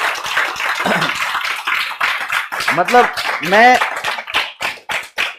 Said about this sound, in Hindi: क्या मैं आपसे तालियां एक्सपेक्ट कर सकता हूं?